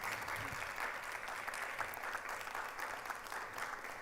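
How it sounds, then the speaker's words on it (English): Steady applause from a large conference audience after a performance, dense and continuous clapping that holds at an even level throughout. "Another round of applause, please, for that powerful and engaging performance."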